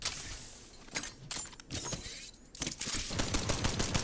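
Rapid gunfire bursts from a new LMG in the Apex Legends video game, loud and choppy with irregular volleys and clatter throughout.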